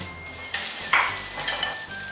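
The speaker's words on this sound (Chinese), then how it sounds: "红葱头爆香" Slices of ginger and shallots fry in oil in a clay pot, giving a steady close hiss that swells into brighter sizzling bursts as they are stirred, with no voices.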